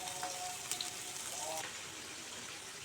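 Taro root (colocasia) fries with curry leaves in a pan and is stirred. A steady, close sizzle of hot oil carries faint scraping as the pieces are turned.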